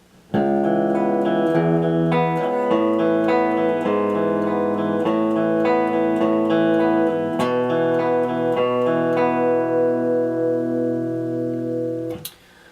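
An electric guitar plays the last part of the verse of a song, the chords changing several times before a final sustained chord that is cut off abruptly.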